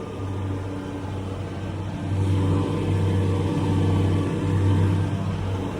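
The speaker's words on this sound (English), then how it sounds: "I'm not turning on the 4-wheel drive, just to see will she pull up there without the 4-wheel drive" A tractor pulls up a soft hill in a silage field in Ireland without four-wheel drive, its engine droning steadily and swelling louder under load midway, with no talking.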